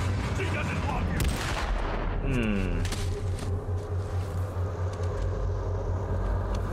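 Gunshots from the Dead Space 3 video game, a few sharp reports in the first seconds over a steady low rumble and game ambience, with voices talking.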